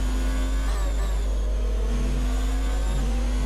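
Formula 1 car engine from F1 2019 at Monza in Italy, a loud, steady high-pitched whine that holds close and constant, with slight pitch steps as the gears shift up.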